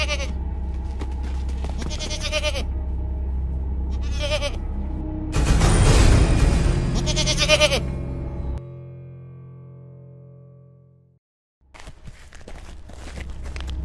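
Village goats bleat in an animated Hindi story, several clear bleats with footsteps and a noisy burst of movement in the middle, then a brief silence before more bleating.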